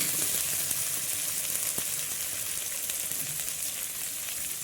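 Tomato and green chili frying in a pan, a soft continuous sizzle with faint occasional crackles, quiet and without speech.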